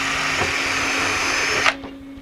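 A power drill bores out fasteners in aluminum siding, whining at a steady pitch with a gritty grinding edge for under two seconds before cutting off abruptly and spinning down, close and loud.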